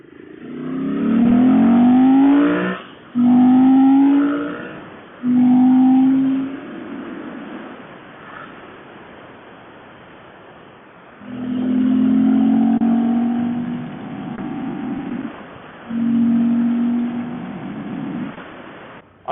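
A 1997 Ducati Monster 900 motorcycle engine revs hard in three short bursts, then pauses, followed by longer accelerating pulls with a drop as braking begins, loud and close.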